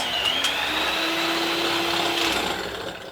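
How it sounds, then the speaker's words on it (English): An electric whisk whirs steadily and loudly through egg whites in a bowl, a continuous motor whine with faint rattling that fades slightly at the end. "you want to be whisking your egg whites"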